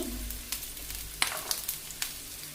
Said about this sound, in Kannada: ಈರುಳ್ಳಿ ಬೆಳ್ಳುಳ್ಳಿ ಫುಲ್ಲು ಫ್ರೈ ಆಗಬೇಕು ಅಷ್ಟು ಚೆನ್ನಾಗಿ ಫ್ರೈ ಮಾಡ್ಕೋಬೇಕು